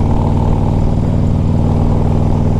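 A 2001 Harley Davidson Ultra Classic with an S&S top end idles loudly and close by, a continuous, evenly pulsing engine rumble with no talk over it.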